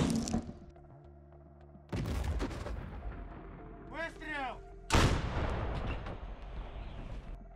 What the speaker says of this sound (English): the artillery hit the positions.